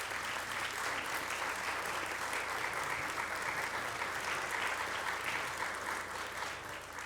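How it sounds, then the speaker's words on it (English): Applause fills a council meeting chamber during a recognition ceremony, a steady, dense round of many people clapping that holds evenly at moderate level for the whole span. "I'm going to stop and clap now."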